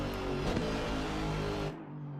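A racing car engine in Assetto Corsa at Indianapolis roars loudly and steadily at high revs, then drops off abruptly near the end, leaving a lower mechanical hum.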